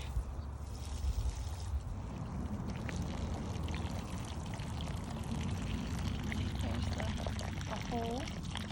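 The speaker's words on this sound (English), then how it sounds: "We've got a water fountain going." A garden water fountain fed by a hose splashes and trickles steadily, a continuous close wash of water running under talk.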